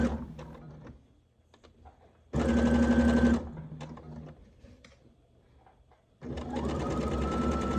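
A sewing machine stitches a dress's back tie and skirt in two close, loud bursts of rapid whirring, separated by quiet pauses with faint handling noises.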